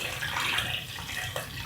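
Water runs steadily from a tap into a pot of rich chicken stock to dilute it, a close, continuous splashing pour with no voices.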